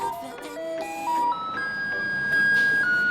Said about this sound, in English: here in Taiwan, you'll be very, very disappointed because it's the sound of the garbage truck.